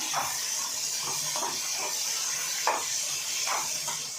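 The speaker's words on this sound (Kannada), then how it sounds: "ಇದ್ರ ಜೊತೆಗೇ ಒಂದು ನಾಲ್ಕು ಮೆಣಸಿನ್ಕಾಯಿ ಸ್ವಲ್ಪ ಕರಿಬೇವು ಸ್ವಲ್ಪ ಫ್ರೈ ಆಗಲಿ ಇದು" Green chillies and curry leaves fry with a bright, steady hissing sizzle. Soft stirring scrapes recur every second or so, and the sound is close and moderately loud.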